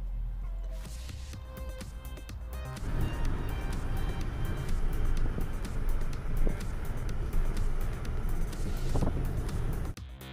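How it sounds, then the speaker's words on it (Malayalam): A car creeps slowly through evening traffic in Dubai near the fish market, its low road rumble and wind noise quiet at first, then growing louder and steady. "ഇറങ്ങുമ്പോൾ തന്നെ നല്ല ട്രാഫിക്കിൽ പെട്ട് മെല്ലെയാണ് വണ്ടി പോയിക്കൊണ്ടിരിക്കുന്നത്"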